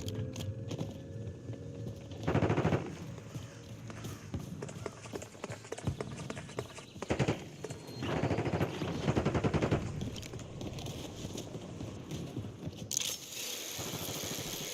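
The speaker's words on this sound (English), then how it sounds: "look at the guy over there in the street shooting that gun" Gunfire from a player shooting in the street in Call of Duty: Warzone, bursts of rapid shots at moderate distance over a busy ambient bed, irregular clusters with pauses between them.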